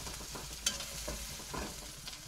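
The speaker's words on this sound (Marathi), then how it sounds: "सर्व सामान जे आहे ते तेलामधून तळून घ्यायचं आहे, फ्राय करून घ्यायचं आहे" Kachori filling ingredients frying in oil make a quiet, steady sizzle with a couple of soft stirring clicks, heard alone without any talking.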